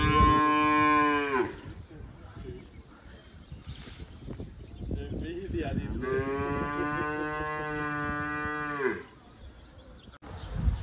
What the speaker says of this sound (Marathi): आणि गाई तुम्हाला इकडे रस्त्याला दिसतील, हे बघा.